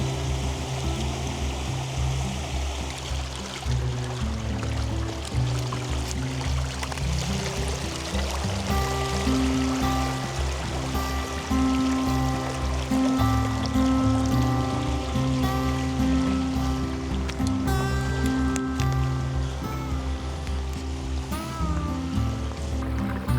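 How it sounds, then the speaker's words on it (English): A small forest stream runs over rocks in the early morning woods, a steady close wash of flowing water that carries on throughout with no speech. "I set myself up in a section of the stream that was relatively straight and flat"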